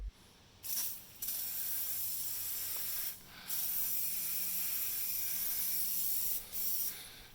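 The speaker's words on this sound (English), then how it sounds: "I usually take this Armor All tire foam and spray down the tires." Several hissing bursts of Armor All tire foam sprayed from an aerosol can onto truck tires, with short pauses between them, then a long steady spray lasting a few seconds.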